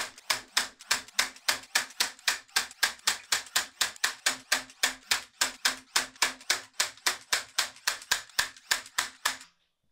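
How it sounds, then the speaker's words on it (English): Nail gun securing mitered trim on a wooden planter box, a long even run of about thirty sharp rapid clacks at a steady rhythm, close and alone. "Then go around with a nail gun to secure the trim."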